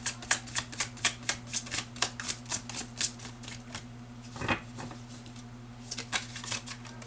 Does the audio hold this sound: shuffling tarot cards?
yes